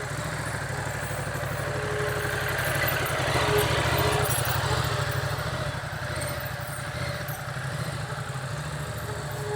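Motorcycle engine idling and puttering steadily at low speed during slow-speed riding practice, a continuous close mechanical rumble with slight clatter throughout.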